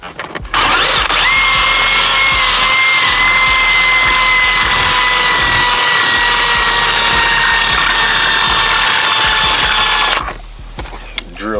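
A power drill with a low battery runs continuously for about ten seconds, loud and close, with a steady whine, while cleaning up a 2006 Dodge Charger. It starts abruptly and cuts off near the end.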